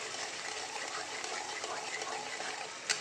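Curry masala mixed with whisked yogurt and cashew paste is stirred in a pan, giving a soft, continuous wet scraping and bubbling hiss at close range with a small clink near the end.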